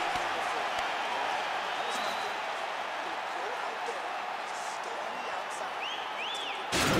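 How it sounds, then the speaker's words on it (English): Boxing-style fight crowd cheering and applauding steadily between rounds after a knockdown, a dense continuous roar of voices heard from within the arena, holding level throughout with a slight swell at the end. "So the crowd voicing its appreciation after that round."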